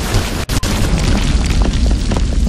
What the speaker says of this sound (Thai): โอ้ยหินถล่ม